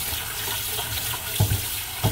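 Water runs from a kitchen tap while a stainless steel pan is scrubbed clean, a soft steady hiss with a few brief splashes and knocks, close and without talk.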